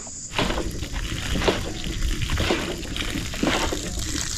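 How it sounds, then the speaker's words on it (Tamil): Water gushes and splashes steadily close by from a borewell hand pump, a continuous rushing pour with periodic surges as if pumped in strokes. "வாட்டர் கேனை பாரு, இங்கே தண்ணி ஊற்றுது பாரு"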